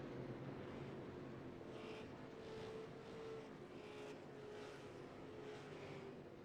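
Race cars lap a track in the iRacing sim at Southern National, a faint, steady engine drone from the field rising and fading slightly throughout.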